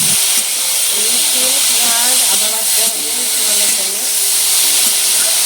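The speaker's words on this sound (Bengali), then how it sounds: "বাট নুন হলুদটা দেওয়ার পরেই আলুটাকে ভালো করে নাড়িয়ে চাড়িয়ে নিতে হবে" Potatoes being stirred with salt and turmeric in a pan over a clay stove give a steady loud hiss and sizzle of frying, with occasional scraping from the stirring throughout.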